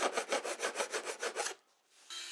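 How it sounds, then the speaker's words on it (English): Metal file rasping off protruding nail ends flush with a wooden strip: about ten quick, even back-and-forth strokes, close and crisp, then a short pause. "clip off the nails where they've protruded through, and file off any metal that sticks out above the surface of the wood"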